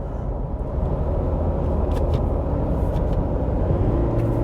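The 2.8-liter mild-hybrid engine of a Toyota Land Cruiser Prado J250 hums with a low, steady drone from inside the vehicle while driving through the gears, with faint clicks over the top.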